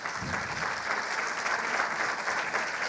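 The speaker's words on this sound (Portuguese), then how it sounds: "Maria Berenice Dias, recebendo os aplausos de nossos convidados" An audience at a lecture on sexual diversity law at a national law congress applauds a retired judge being introduced as a guest speaker, steady continuous clapping from a sizeable crowd, even in level and filling the room throughout.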